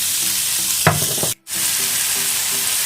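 Chicken meat dropped into a hot pan, raising a loud, close sizzle with a sharp burst of spattering, a momentary hush, then steady frying again.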